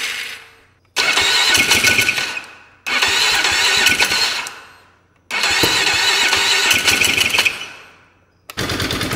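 An ATV engine fires up in three long loud bursts of rough, rapid running, each cutting off before the next start, with a final burst at the end.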